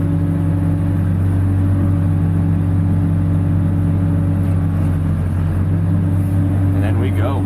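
A broken-down plow truck's engine drones at raised throttle around 1500 rpm, a loud steady hum with strong low tones, running close by while someone speaks briefly.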